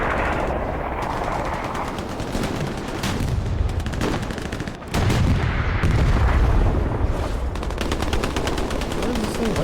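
Dense gunfire and heavy explosions in a combat video game match, rapid bursts of firing layered with booming blasts nearly nonstop at loud level, with a brief drop in the middle.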